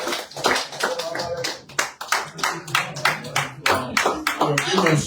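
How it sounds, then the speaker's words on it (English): A town hall audience claps in uneven bursts, the hand claps close and distinct, while people talk over the applause. "Give a strong round of applause, please."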